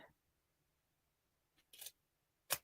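Scissors trim a homemade piece in a quiet room: two or three short, crisp snips close by, separated by silence.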